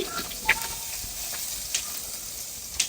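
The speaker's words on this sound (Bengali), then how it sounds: "এখন এই মাংস আর আলুটা সুন্দরভাবে রান্না করে নিব।" Meat and potatoes fry in a pan with a continuous soft sizzle and hiss, punctuated by a few brief crackles and spits, close and fairly quiet.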